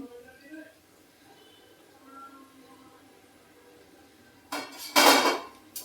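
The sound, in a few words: fried crispy gobi being moved onto a plate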